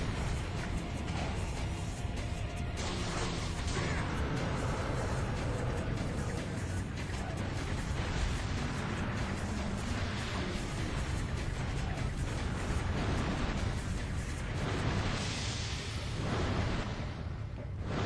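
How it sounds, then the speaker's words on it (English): Big fire explosions and chaotic combat effects roar from the video game Ninja Gaiden (2004), a dense, loud, continuous wash of blasts and whooshes with no voices. "you could roll under this big fire explosion that he's doing"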